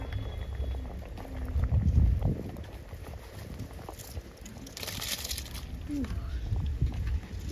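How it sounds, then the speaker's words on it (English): Water splashes and sloshes into a big pot for cooking rice for Jamaican beef stew, close and uneven, under a general kitchen din with a voice talking. "Water is splashing."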